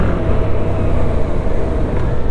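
A Yamaha MT-07 from 2025 with a robotized automatic gearbox accelerates hard, its engine giving a loud, steady, close drone with no pause through the whole stretch.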